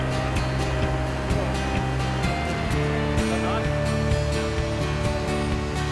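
Rushing water roars continuously nearby, a broad steady wash with a low hum underneath and a voice speaking over it.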